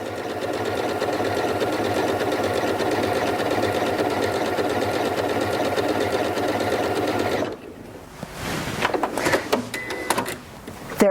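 A Janome MC8200 sewing and quilting machine runs steadily stitching a blanket stitch, a close, continuous mechanical whir that stops abruptly partway, followed by faint clicks and handling noises.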